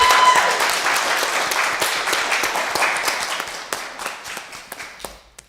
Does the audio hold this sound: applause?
yes